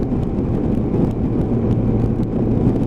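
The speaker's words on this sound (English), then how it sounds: "the babble of that big quack engine just kicking in" A big motorcycle engine babbles steadily from close by, a dense low rumble with a continuous throb and no voices over it.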